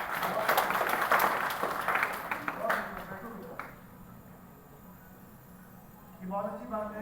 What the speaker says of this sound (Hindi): ताली बजाएंगे